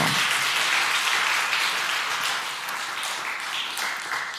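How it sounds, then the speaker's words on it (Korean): Church congregation at a Friday evening service claps in thanks, a dense roomful of hands starting strong and gradually tapering off. "우리 하나님께 감사 박수 한번 합시다"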